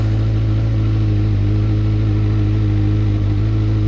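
A Honda CB 1000R naked motorcycle engine runs at a steady idle, loud and close, with a deep continuous rumble and slight fluctuations, no voices.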